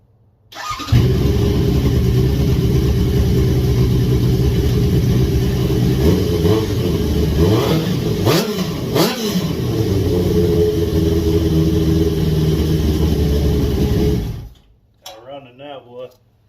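A Suzuki GSX1100 Katana motorcycle engine mounted on a crazy cart starts and idles loudly and close, with a couple of quick revs near the end before it shuts off and a voice speaks briefly.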